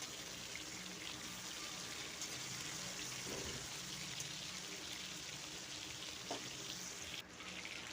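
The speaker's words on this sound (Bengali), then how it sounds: "মাছ ভাজা হয়ে গেছে" Fish pieces fry in hot oil, a steady soft crackling, continuous hiss with a few small pops, fairly quiet and without speech.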